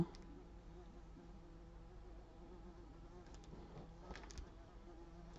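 A housefly buzzes around a tabletop during indoor card crafting, a faint, steady droning hum that swells briefly as it passes closer, over a quiet room background.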